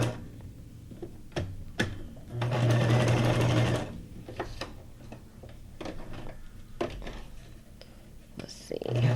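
A sewing machine runs a straight stitch in one sustained whirring burst lasting about a second and a half, surrounded by ticks, clicks and handling noises, with a quiet voice talking at times.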